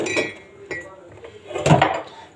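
Washed ceramic plates and drinking glasses being stacked in a home kitchen, giving a few sharp clinks and clatters at irregular intervals, with the loudest knock near the end.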